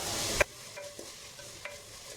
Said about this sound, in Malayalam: ഒരു 2-3 മിനിറ്റ് നമുക്കിതിങ്ങനെ വഴറ്റി കൊടുക്കാം